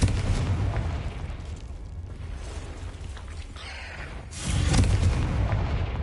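Confringo blast spell erupting in Hogwarts Legacy, a heavy booming explosion with rumbling low end that sustains through the clip, dips in the middle, then swells again with a second loud burst near the end.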